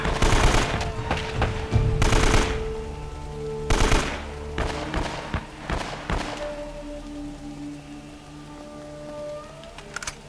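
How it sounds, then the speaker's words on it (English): Rifle gunfire from the video game Uncharted: Drake's Fortune, with bursts of rapid shots in the opening seconds and again near four seconds, thinning to scattered reports over a steady game ambience. "I'm gonna have to use the rifle"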